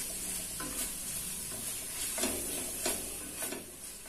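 Ginger garlic paste frying with onions in a pan for veg biryani, made without oil: steady soft sizzle with a few scraping stirs of a spatula, close and quiet, no voice.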